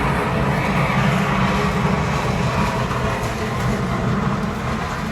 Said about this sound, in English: Excuse the wind noise